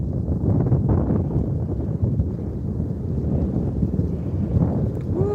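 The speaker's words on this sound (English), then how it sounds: "got some wind now" Wind blowing outdoors on a river, a loud steady rumbling buffet across the microphone with gusty low roar throughout and no talking.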